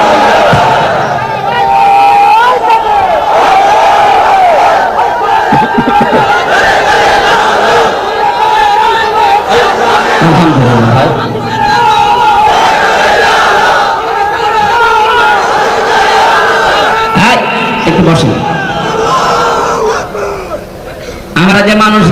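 A large crowd at a Bangla waz mahfil shouts Allahu Akbar in unison after a takbir call, loud sustained repeated chanting voices filling the whole stretch.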